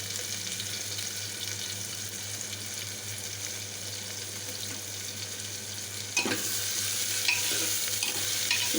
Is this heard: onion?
yes